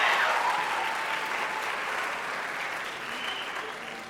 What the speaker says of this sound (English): Clap for them all you want.